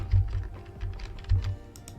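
A handful of quick keystrokes on a computer keyboard, quiet and close, tapped in a short uneven burst with no talking.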